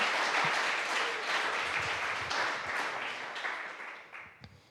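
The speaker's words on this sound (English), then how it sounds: "So I want you all to give yourself a round of applause real fast" An audience at a talk applauds, dense clapping from many hands that starts loud and gradually thins and fades out toward the end.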